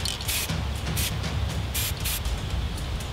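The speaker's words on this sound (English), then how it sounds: "turn your can upside down, maybe away from yourself. Just give it a quick spray until it becomes clear" An aerosol spray paint can, held upside down to clear its nozzle while base coating, gives several short hissing bursts over a steady low background rumble.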